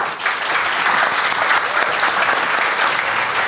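A room of first-time home buyers at a StreetEasy Brooklyn event applauds the experts, a loud, even burst of many hands clapping at once, steady from start to finish.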